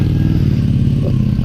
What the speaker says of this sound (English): It's a dude test riding the Scrambler.